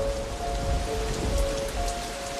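Steady rain falls on a wet road and surfaces in misty mountain country, a dense close hiss with scattered drops and a low rumble underneath, continuous throughout with no voices.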